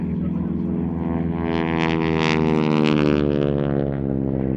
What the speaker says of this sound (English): now this is a Harvard 2B model, which is today operated by Hurricane Heritage and the West London Aero Club at White Waltham in Berkshire